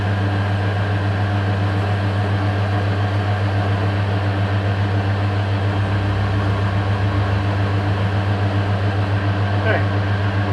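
A CNC machine with slurry runs as a steady mechanical hum with a strong low tone and a constant whirring wash. It is loud and unbroken, and a voice talks over it.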